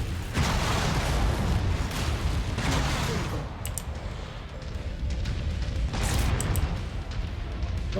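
Heavy mech cannon fire in the MechWarrior 5 video game, from an Annihilator-based Devastator build, roars as dense, booming broadband blasts that swell in several loud surges over a continuous rumble of battle noise, with no talking.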